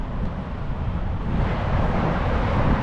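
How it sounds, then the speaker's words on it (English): Strong wind buffets the microphone outdoors on a clear, cloudless day, a steady broadband roar with low rumbling gusts that swell slightly louder toward the end, with no talking. "very windy, very windy"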